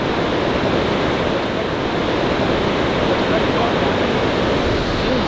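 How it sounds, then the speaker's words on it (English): A raging Swiss river rushes in a steady, loud broadband roar of churning water, constant and unbroken throughout with no clear voice over it. "this is the river that we're going to be diving in"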